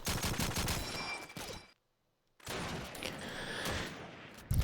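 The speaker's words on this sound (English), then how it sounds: "Crapito will find him with that final scope kill. Nice no scope headshot." Rapid Call of Duty 2 gunfire, including a sniper rifle, fires in a dense burst of loud shots, cuts to a brief silence, then resumes with more sustained firing and a sharp crack at the end.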